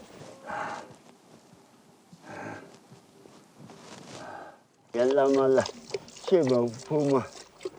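Milking yaks into a pail: a few short squirting bursts with quiet yak sounds nearby, then a person starts talking close up.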